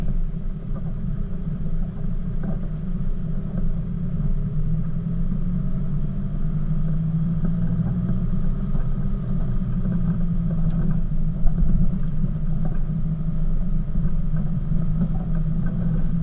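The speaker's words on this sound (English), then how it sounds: "on all these descents I just leave it in first or second gear low range and let the engine braking control it" A 4WD creeps down a long, steep mountain track in first or second gear low range, its engine braking producing a steady low droning rumble throughout, close and continuous with faint rattles.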